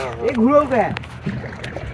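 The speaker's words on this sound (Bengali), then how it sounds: "নৌকা চালাচ্ছে" A rowboat on a lake, with close oar strokes and soft water sloshing under a voice speaking near the microphone.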